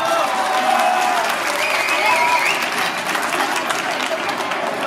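A crowd claps steadily at a Holstein cattle show in Uttendorf, a dense, even wash of applause holding for several seconds at close range.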